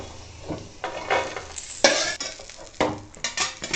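Cashews being stirred and roasted in a hot pan for khara pongal, with soft sizzling under repeated scraping strokes of a spoon against the pan, close by and without speech.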